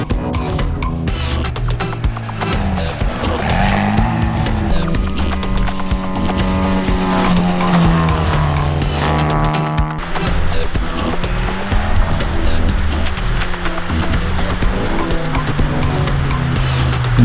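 Open-wheel race cars run through slippery, zero-traction conditions during the Mariendal 250 off-road event, with engines droning and revving steadily nearby alongside rattling, clattering bursts, loud and continuous throughout.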